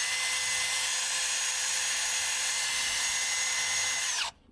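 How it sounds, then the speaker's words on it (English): Power drill with a cleaning attachment scuffing the wheel hub mounting surface on a car after a wheel is removed, a loud steady high-pitched whine running continuously close by, then cutting off abruptly at the end. "just with a drill"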